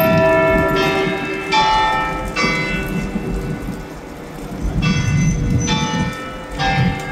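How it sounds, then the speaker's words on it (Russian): Church bells peal from belfries over a Copenhagen square, several sustained bursts of ringing tones recurring across the clip over a steady background wash like rain. "сядете на ступеньках и насладитесь звуками колоколен."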